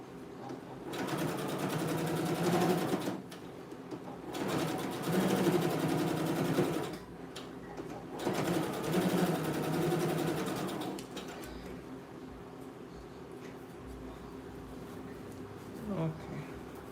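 A sewing machine top stitches a seam on dog clothes, three close bursts of steady whirring stitches separated by short pauses, then quieter handling of the fabric.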